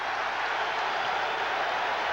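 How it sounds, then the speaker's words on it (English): Arena hockey crowd at a 1992 Penguins at Rangers playoff game applauding goaltender John Van Biesbrouck's save, a broad, steady roar of clapping and cheering filling the whole moment. "Crowd reacting to the great save of John Van Beesbroek."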